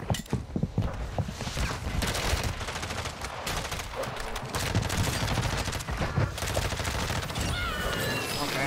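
Lockwood 300 slug shotgun firing in Warzone, a burst of sharp shots and gunfire clatter early on, then continuous busy battle noise with scattered impacts.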